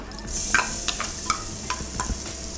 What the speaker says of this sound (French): On vient les faire dorer à la poêle.